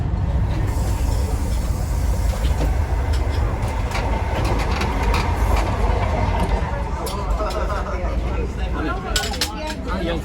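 An Indian Pacific passenger train travelling on rails between Perth and Sydney, with a steady loud rumble and rattling wheel noise throughout, and faint voices now and then.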